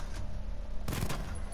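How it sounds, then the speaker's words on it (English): A chain gun in Batman: Arkham Knight lets off one short, loud burst of rapid fire that lasts about a third of a second, over a steady low game rumble. "The chain gun's not powerful enough."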